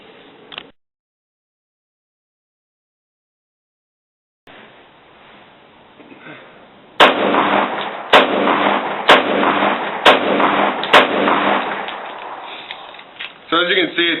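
CZ-75B pistol in .40 S&W firing light reloads, a quick string of about five sharp, evenly spaced shots after a silent gap, loud and close, with a short burst of shots at the end.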